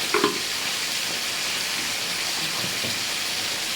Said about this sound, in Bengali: এই যে ইলিশ মাছের মাথাটা ভাজা বসিয়েছি বন্ধুরা